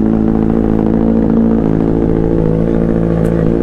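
A Kawasaki Z900 motorcycle idles steadily just after a cold start, a loud, close, continuous low engine rumble with a faint mechanical clatter and no talking.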